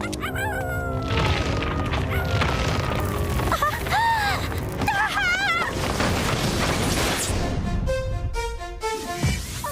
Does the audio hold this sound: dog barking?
yes